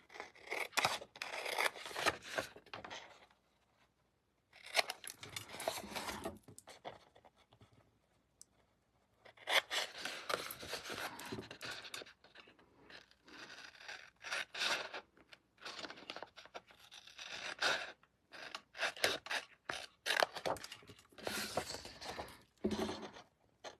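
Scissors snip at an angle through card corners for a slimline card, bursts of crisp cutting and paper rasping repeated over and over with short quiet gaps, close and without speech.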